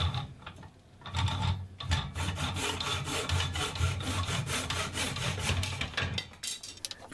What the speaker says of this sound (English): breaking out my Nobex manual miter saw to cut this very fine beading